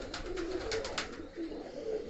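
Soft pigeon coos repeat at a low pitch under a steady, noisy background, with a few faint chirps overhead.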